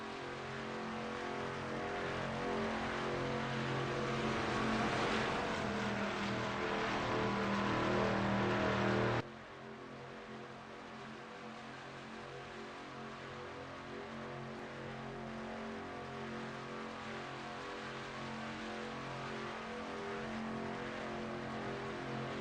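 Racing trucks in a Truck Series race drone steadily on the track, a continuous loud engine roar that drops abruptly partway through and then carries on at a lower, even level.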